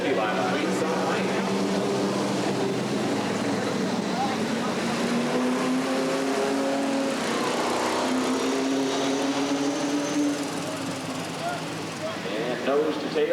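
Street stock race cars rumbling around Redwood Acres Raceway during a restart, a continuous engine drone with rising and falling pitches as cars pass, steady and loud throughout, with speech over it.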